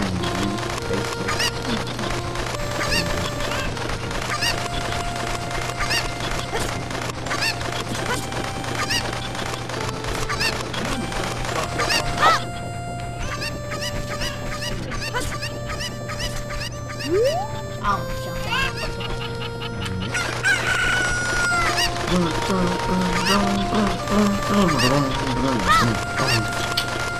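Cucco chickens clucking in Zelda: Ocarina of Time, game audio with steady music and sound effects running throughout, someone talking over much of it.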